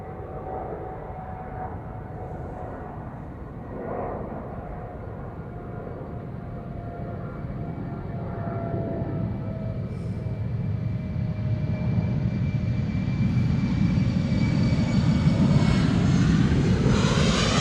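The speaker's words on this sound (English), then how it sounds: "BA City Flyer to London City, Embraer 190 taking off from Polderbaan" A BA City Flyer Embraer 190 jet takes off from the Polderbaan runway at Amsterdam Schiphol, its engine roar steady and broadband and slowly growing louder, with a rising whine over the rumble.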